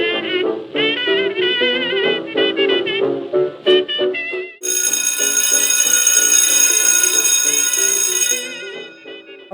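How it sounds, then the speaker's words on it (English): An electric bell rings loudly and steadily for about four seconds to mark the start of a swing dance class session, cutting in after a stretch of jazz music and stopping abruptly. "that is the sound of the bell"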